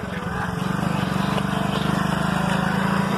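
A motorbike engine idles and runs steadily with the accelerator held at a constant level, a loud, close, pulsing drone with a fast even rhythm and no clear rise in revs.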